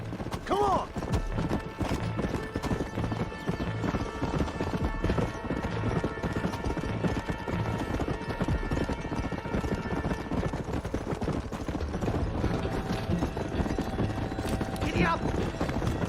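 Horse hooves clip-clop at a steady gallop in the Red Dead Redemption video game, with occasional neighs under continuous game music and effects throughout.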